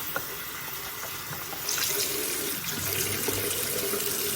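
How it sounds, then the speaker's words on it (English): Tap water runs steadily over a synthetic wig being rinsed at a sink, a continuous close splashing hiss that grows slightly louder midway, with no talking. "I'm just going to rinse it a little more."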